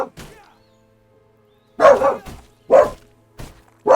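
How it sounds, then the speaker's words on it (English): A pet dog barking indoors, a few separate loud woofs spaced out after a quiet pause, with a faint voice at the start. "Oh, my dog just started barking."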